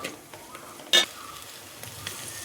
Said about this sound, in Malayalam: കറിവേപ്പില, പച്ചമുളക് ഇതെല്ലാം കൂടി ആഡ് ചെയ്ത് നന്നായിട്ട് മൂപ്പിച്ചെടുക്കുക